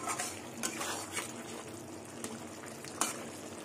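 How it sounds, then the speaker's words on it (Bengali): Raw banana and paneer curry sautéing in hot oil, a steady close sizzle and crackle with a few soft stirring scrapes and clinks of a spoon against the pan. "কষাতে কষাতে তেল ছেড়ে দিয়েছে।"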